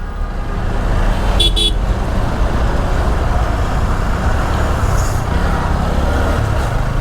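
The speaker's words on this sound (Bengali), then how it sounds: "পুরা রাস্তা জ্যাম।" A jammed Dhaka street, with cars and buses idling in a dense, constant roar of traffic noise close by, broken by short horn toots early on and again faintly later.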